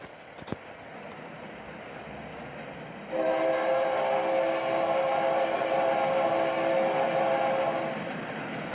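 A Metrolink-area train at West Corona sounds a steady, loud horn chord after a green signal as it departs, starting about three seconds in and holding to the end over rumbling background noise.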